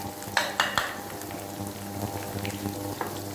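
Dried chilies and spices sizzle and fry in a pan for mutton dalcha, a steady close crackle punctuated by a few sharp stirring clatters early on.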